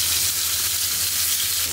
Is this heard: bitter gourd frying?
yes